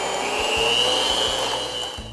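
An electric hand mixer beats cream cheese mixture in a bowl, giving a steady close-up motor whine with a constant high-pitched drone and a faint rhythmic rattle of beaters against the bowl.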